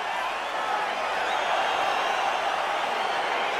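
Video game crowd noise at the start of an EA Sports UFC 4 bout, a steady, dense roar of cheering that holds level and fairly loud throughout, with no voices standing out.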